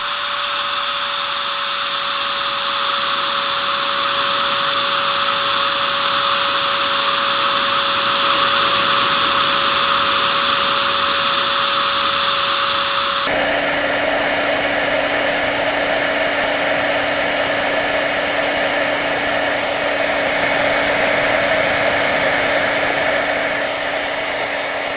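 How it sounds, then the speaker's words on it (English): A handheld heat embossing tool blows hot air across a stamped card, a loud steady whirring hum that runs unbroken with a slight shift in pitch partway through, close by and alone with no talking. "pardon me for just a second while I do my heat embossing"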